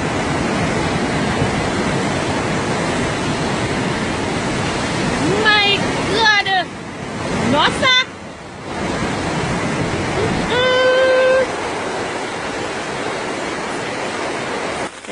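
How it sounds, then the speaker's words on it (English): Rushing floodwater of a swollen river near the May Pen Bridge in Jamaica, a loud, steady roar filling the whole stretch, with a few short spoken exclamations over it midway. "Look here, a lot of water. A lot of water, people."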